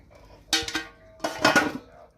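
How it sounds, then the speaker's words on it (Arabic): Feteer meshaltet, a layered flaky pastry soaked in ghee and cream, crackles and crunches in two brief close bursts as it is pulled apart, separated by a short quiet pause. "يا لهوي على صوت القرمشه والتوريقه"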